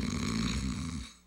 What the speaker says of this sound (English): Snoring. It's not just something to laugh about.